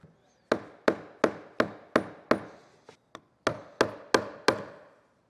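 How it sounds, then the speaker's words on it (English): A series of sharp metallic hammer blows on a screwdriver driving a fuel tank sending unit collar, about a dozen evenly spaced strikes with a short pause midway, close and crisp with no talking. "so we're using hammer and a screwdriver."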